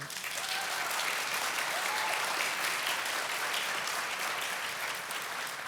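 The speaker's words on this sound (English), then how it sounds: "I think you all should give yourself a round of applause for that" An audience at a school-district retirement and service-pin banquet gives a sustained round of applause, a steady, evenly dense clatter of many hands that holds at a constant level from start to finish, heard from some distance.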